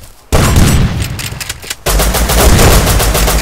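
Rapid gunfire in the survival video game Rust, loud close bursts of automatic shots filling nearly the whole stretch after a short quiet start, with a brief gap midway before the firing resumes.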